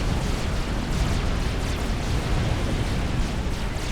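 Bombs from T1 bombers bursting in the real-time strategy game Supreme Commander, a dense, continuous roar of explosions and deep rumble that stays loud throughout with no clear gaps between blasts.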